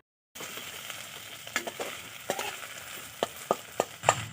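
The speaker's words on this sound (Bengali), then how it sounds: "এবারে ভাজা আলুর সাথে ডিমটা আমি মিক্সড আপ করে নেব" Fried potatoes tossed with egg, soy sauce, chili sauce and tomato sauce crackle softly in a pan after a brief silence, with a spatula tapping and scraping in scattered sharp knocks.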